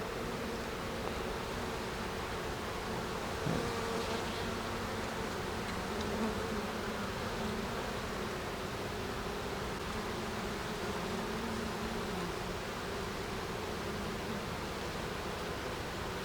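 Honeybees hum steadily and softly during a hive inspection, a continuous low buzzing swarm sound throughout, fairly distant and even with no talk.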